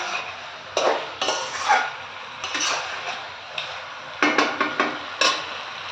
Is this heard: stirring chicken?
yes